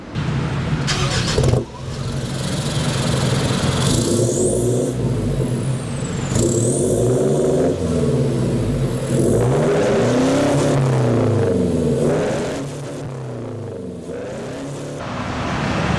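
A Mitsubishi Pajero engine revving hard through a throaty sport exhaust with a carbon-tip silencer, rising and falling in repeated surges, loud and close, then settling to a lower idle.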